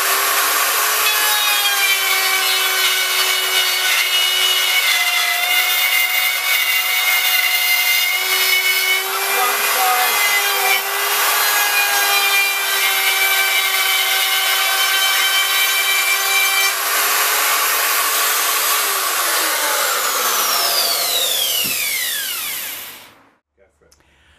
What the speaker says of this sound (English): So with my very shallow cut, I switch on, let it reach its running speed, close the lock,